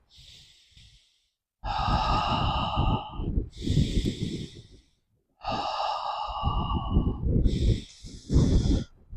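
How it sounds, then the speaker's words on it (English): Slow, deep belly breathing demonstrated during Tai Chi and Qigong practice: long, audible inhales and exhales alternate with brief pauses, close and breathy, with no talking. "The correct way of breathing is to use the belly."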